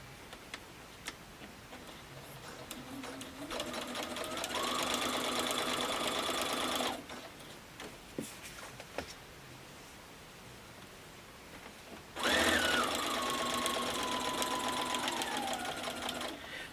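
Sewing machine stitching binding onto a mini quilt, running in two steady bursts of several seconds each separated by a quiet pause with faint ticks, fairly close and alone.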